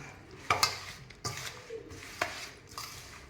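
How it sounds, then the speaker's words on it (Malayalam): Masala being stirred into raw green chillies for a no-cook pickle, with several faint scrapes and clinks of a spoon against the bowl at irregular intervals, soft and close with no talk. "ഇങ്ങനെ കുറേശ്ശെ ഇട്ട് കൊടുത്ത് ഇളക്കി എല്ലാ മുളകിലും നമുക്ക് മസാലകൾ പിടിപ്പിച്ചെടുക്കാം"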